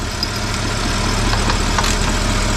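Car engine idling steadily at operating temperature during a transmission fluid check, a loud, even low rumble with a faint ticking pulse throughout, no voices.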